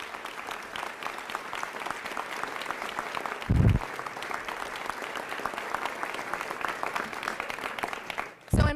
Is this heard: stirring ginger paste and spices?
no